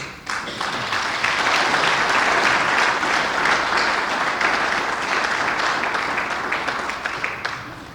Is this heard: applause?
yes